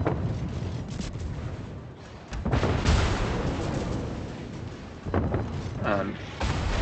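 Heavy naval gunfire trades back and forth between warships in World of Warships, deep booming salvos rolling under steady background roar, with a strong burst near the middle and another late, while a voice talks over the battle.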